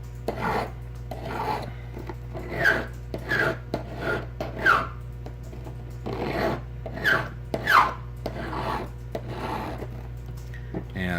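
A hand file rasps along the blade edge of a boat propeller, thinning it in a steady series of separate strokes with short pauses, close and clear over a low steady hum.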